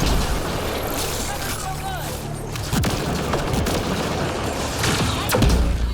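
A big gun firing in the Mass Effect Andromeda video game, heavy booming shots and rolling gunfire bursts, loud and close, with a voice speaking over parts of the action.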